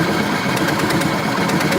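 A scooter engine idles steadily with a fast, buzzy rattle and a faint rhythmic ticking, close and continuous with no other sounds.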